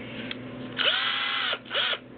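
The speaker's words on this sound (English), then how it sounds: "just fire up the drill" A power drill whirs in two short bursts, spinning up and winding down, close and fairly loud with a faint hum between, twisting lengths of wire together into a pair.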